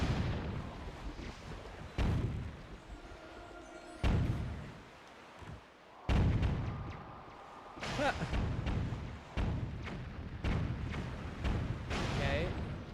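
Cannons mounted on a wall firing in a video game, one destroying another: repeated booming blasts at a few-second intervals, each a loud thud with rumbling tail, among continuous battle noise.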